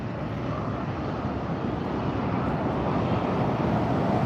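A Southwest Boeing 737 roars at LAX airport, a broad, steady jet rumble that builds slightly over a few seconds, with some wind buffeting on the microphone.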